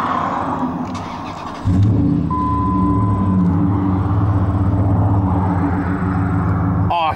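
A 2003 Dodge Ram 1500 SLT pickup with a Hemi V8 and 185,000 miles cranks briefly, catches with a loud burst, then settles into a steady, deep rumbling idle up close.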